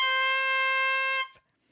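A bare handmade oboe reed, scraped on an Ingle gouge, crows with a bright, buzzy sustained tone full of harmonics, held steadily for about a second before stopping abruptly, close and alone.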